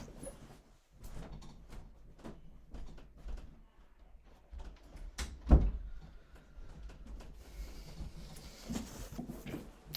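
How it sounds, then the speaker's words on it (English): A door bangs shut with a single solid thump midway, surrounded by quieter shuffling, clicks and handling noises in a still room. "I'm going to shut this door."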